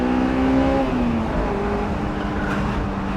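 A Honda S2000 AP1 engine revs hard toward VTEC, rising in pitch as a loud, continuous whine-rich roar heard from inside the car.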